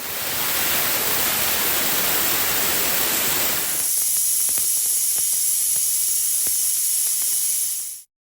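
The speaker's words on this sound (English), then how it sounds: "All the pressure has been released." Pressurized air rushes out of an air compressor tank as a loud, close, broadband hiss that drops partway through into a thinner, higher hiss with faint clicks, then cuts off abruptly.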